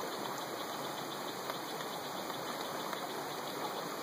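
Water from a Katadyn Hiker Pro filter with CamelBak quick disconnects hisses in a steady, faint, continuous rush, unbroken for the whole stretch and with no talking.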